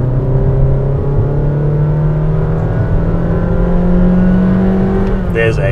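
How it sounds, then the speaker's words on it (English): A Honda HR-V 1.5 engine pulls at full throttle from 40 to 80, heard from inside the cabin as a loud, steady droning hum that holds its pitch, with a brief voice at the end. "Let me actually demonstrate what like a 40 to 80 pull sounds like."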